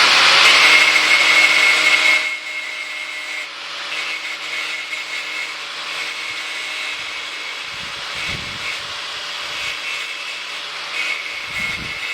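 A power tool whines loudly at first, then settles into a steady high-pitched grinding hum with occasional knocks and scrapes.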